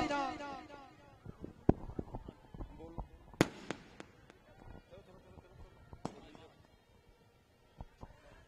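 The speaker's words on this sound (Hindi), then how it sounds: "ਐਸੀ ਆਤਿਸ਼ਬਾਜ਼ੀ ਜਿਹੜੀ ਆ ਉਹ ਹਰ ਇੱਕ ਜਗ੍ਹਾ ਦੇਖਣ ਵਾਸਤੇ ਨਹੀਂ ਮਿਲਦੀ" Dussehra 2022 fireworks in Mohali Phase 8 send out scattered sharp bangs and crackling pops at varying distances, irregular and echoing, with a voice briefly audible at the start.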